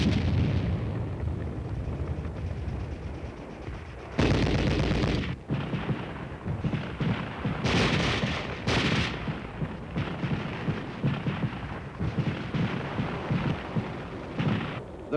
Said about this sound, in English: Instead of just sitting and listening to the shells passing overhead, the unit engages in a tactical problem.